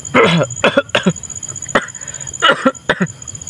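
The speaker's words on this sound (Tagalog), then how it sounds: "pasensya na kasi may ubo ako" Several short, harsh coughs come in quick bursts, close and loud, with brief pauses between them and no talking.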